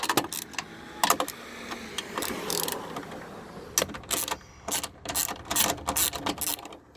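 Bolts being removed from the front end of a 1999 Ford Super Duty: a close, quiet run of metallic ratchet clicks and clinks, with short bursts and pauses as the wrench works.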